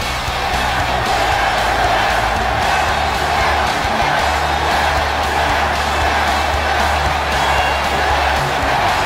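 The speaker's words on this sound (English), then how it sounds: "Sounds to me like the crowd is more than ready for this one." A virtual arena crowd in a WWE wrestling video game roars and cheers steadily at a wrestler's entrance, a dense, loud wall of cheering and whoops that holds without a break.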